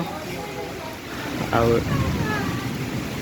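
The Gundichaghagi waterfall roars steadily in the rain, a dense, continuous rushing wash that fills the whole clip, with a brief faint voice just audible beneath it.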